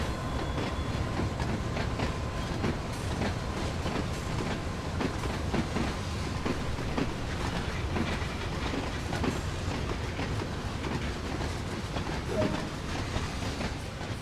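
Class 66 diesel locomotive in a train simulator coasting with a string of wagons, steady rumbling rail noise with rhythmic clickety-clack of wheels over joints, continuous and fairly close, no talk.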